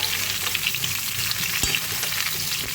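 Mango pieces frying in hot oil over medium heat while being stirred, a loud, dense, continuous sizzle close up with soft scraping stirs underneath.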